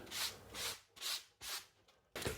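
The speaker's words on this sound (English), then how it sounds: "lightly sand it and in one direction, away from you while you hold it" Hand sanding of a brittle laminate off-cut for a kitchen bench edge strip, five short rasping strokes in one direction with brief pauses between, close and moderately loud, no voices.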